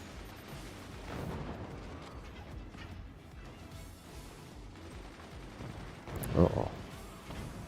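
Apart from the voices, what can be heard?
mortar fire hitting fort structures in the video game Forts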